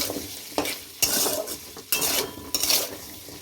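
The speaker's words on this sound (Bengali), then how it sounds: "দিয়ে আলুগুলোকে একটু ভেজে ভাজা ভাজা করে নেব।" Potato pieces seasoned with turmeric and salt fry over a high gas flame, a close sizzle broken by several loud bursts of spatula scraping and stirring against the pan.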